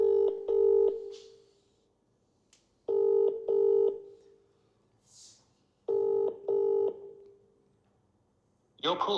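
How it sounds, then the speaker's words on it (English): Outgoing phone call rings through a handset in three evenly spaced double-burst ring tones separated by quiet gaps, with faint background sounds and a click at the end. "Now it's calling."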